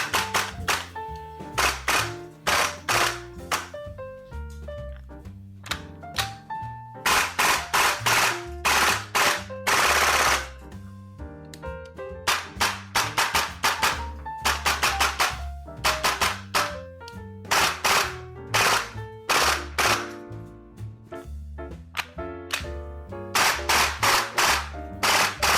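An APFG SIG MPX gas blowback airsoft gun fires in sharp, snappy bursts and single shots, loud and close, with brief pauses between strings of rapid cracks and no voices.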